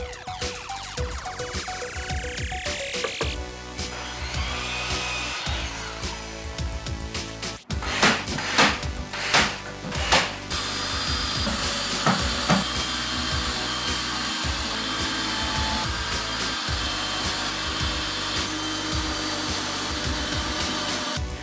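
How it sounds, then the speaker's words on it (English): A miter saw cuts wooden leg braces for a vertical herb garden planter box, a steady whining saw drone running for most of the stretch with a sharp clunk partway through and brief louder bursts as the blade passes through the wood. "Cut some leg braces on the miter saw."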